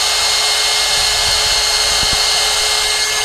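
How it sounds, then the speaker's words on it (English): Electric air pump inflating an air bed at a campground, a loud, constant whirring drone that runs without a break. "we're going to pump this guy up."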